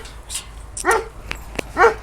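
A big white female Kangal on a farm lets out three sharp, loud barks close by, spaced unevenly with short quiet gaps and a couple of faint yips between them.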